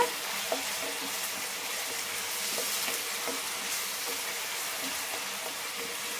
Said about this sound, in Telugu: ఇందులో ముందుగా ఆయిల్ వేసి ఈ ఆనియన్స్ అనేది ఫ్రై చేస్తున్నాను అనమాట.